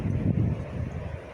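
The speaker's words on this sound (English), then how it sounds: "it is windy today" Strong wind on a windy December morning buffeting the microphone from a garage, a low rumbling gusty roar that pulses briefly and fills the short moment without any talking.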